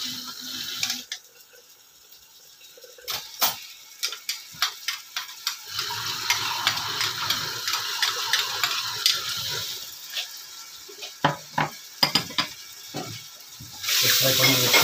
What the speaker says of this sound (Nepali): यसलाई पनि एकछिन तेलमा राम्रोसँग फ्राई गर्ने।